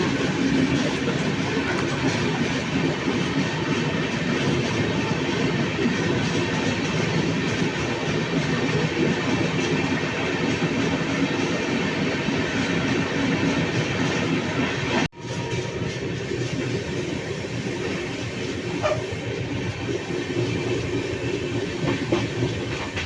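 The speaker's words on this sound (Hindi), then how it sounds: "बनारस नई दिल्ली के रूट पर टॉप क्लास ट्रेन, तो हमारी ट्रेन इसको क्रॉस कर रही है।" From inside a moving train, a continuous loud rumble and clickety-clack of wheels carries through the whole stretch as the Shiv Ganga Express on the Varanasi–New Delhi route passes alongside; a brief sharp break near the middle, then steady running.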